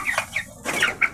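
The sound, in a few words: chickens clucking as the feeder comes in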